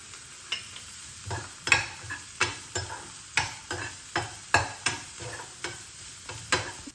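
Ingredients lightly sautéing in a pan while a spoon stirs, rhythmic scraping strokes about twice a second over a low continuous sizzle, close and clear with no voices.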